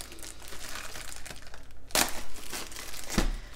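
A branded plastic dust cover bag being handled and opened, giving continuous close crinkling with two sharper, louder rustling bursts, and no talk.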